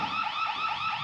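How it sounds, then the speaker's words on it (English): A loud electronic alarm siren from a smart home monitoring system warbles continuously, rising and falling in a fast repeating sweep with no other sounds. "then the siren will turn on"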